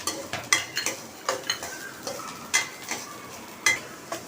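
Onion and garlic sauté in a kadhai with a light sizzle, broken by a string of sharp spoon scrapes and clinks against the pan at an uneven, busy pace, fairly quiet and without speech.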